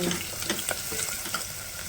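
Chopped onions fry in a pan for a pungent mutton paya soup base, a close, steady crackling sizzle with a few light stirring scrapes.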